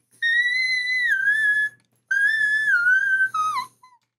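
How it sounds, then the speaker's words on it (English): A person whistles a clear, tuneful melody in two phrases separated by a short pause, the bright tone sliding downward at the end of each phrase, close and alone with no talking. "I learned to whistle. I can whistle"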